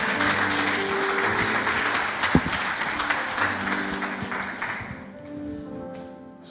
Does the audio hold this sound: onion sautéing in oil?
no